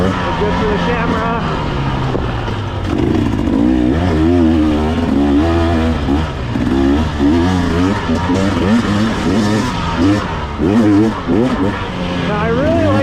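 A 2024 GasGas enduro motorcycle engine drones steadily while being ridden, its pitch rising and falling with throttle changes, loud and close throughout with someone talking over it.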